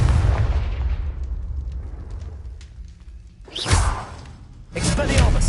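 The Confringo blasting spell in Hogwarts Legacy lands as a loud booming explosion with a whooshing burst, then a second blast follows; a voice calls out over the action.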